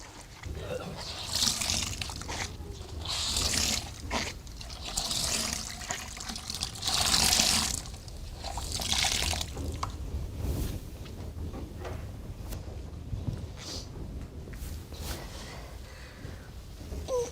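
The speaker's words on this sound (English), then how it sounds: "You swish everyone around so you get as much sodium bicarb in the towel as possible" A towel swished around in a basin of sodium bicarbonate water makes repeated sloshing, splashing bursts in an uneven rhythm, close by, while a person talks over it.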